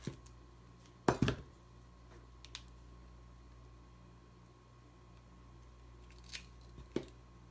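Scissors snip flower stems during a floating flower craft, a sharp cluster of cuts near the start and a couple of lighter clicks toward the end, close by against a quiet room.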